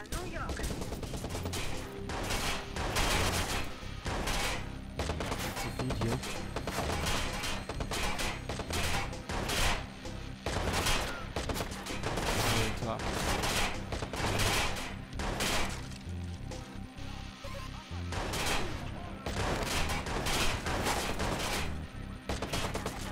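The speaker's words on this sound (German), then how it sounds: "weiß gar nicht, auf wen ich schießen soll" Repeated gunfire in Watch Dogs crackles through the whole stretch in rapid bursts and volleys over a busy game background, with some talk mixed in.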